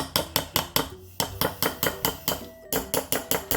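Rapid, sharp knocks strike a Pyrex glass baking dish in a kitchen while gluten-free, dairy-free blueberry banana muffins are made, about twenty bright, ringing taps in an uneven quick rhythm, close and clear, with no talking.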